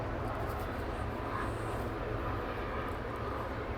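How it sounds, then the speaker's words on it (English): A helicopter flying overhead outdoors, a steady low rumbling drone that holds at an even level throughout, heard at a moderate distance with no talking. "Okay, is that the helicopter?"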